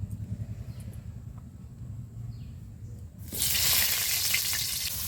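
Pumpkin pieces dropped into hot oil burst into a loud, steady sizzle, following a quieter stretch of low outdoor rumble in a village cooking spot.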